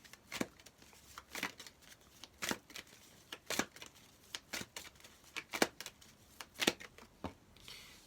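Close, quiet card handling: a series of crisp riffling and snapping bursts at uneven intervals, with no talking.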